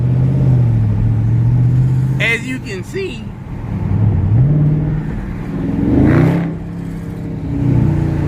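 A Dodge Charger's V8 rumbles at idle and rises in two short revving swells, loud and close, while someone talks over the engine throughout.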